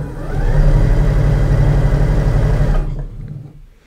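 A sewing machine motor runs at half speed, set by its sliding speed dial, giving a loud, steady whir that holds evenly for under three seconds and then cuts off, leaving near silence.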